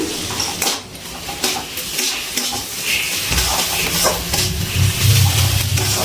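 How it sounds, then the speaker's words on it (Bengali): Radish curry being stirred in a pan with ghee and garam masala, a steady scrape and clatter of spoon against metal with faint sizzling, close and continuous. "এবার সব কিছু ভালো করে মিশিয়ে নিচ্ছি"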